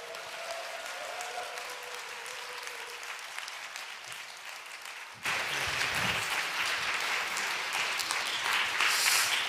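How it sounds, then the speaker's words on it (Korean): Sustained applause from a church congregation fills the room, swelling louder partway through and continuing steadily without a break. "큰 박수와 격려 부탁드리겠습니다"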